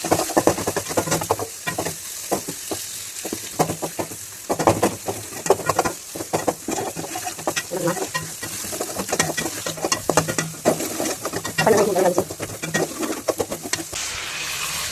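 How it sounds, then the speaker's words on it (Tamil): Ginger-garlic paste and tomatoes sauté in oil with a continuous close sizzle and repeated scraping stir strokes, while pigeons coo in the background. "அதில் தான் நான் இஞ்சி பூண்டு வதக்கிட்டுருக்கேன்"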